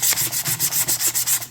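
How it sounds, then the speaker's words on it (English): Hand sanding of 1998 Chevrolet OBS truck parts before painting, a brisk run of about ten even back-and-forth rasping strokes, close and loud, with no voices. "I'm sanding these down"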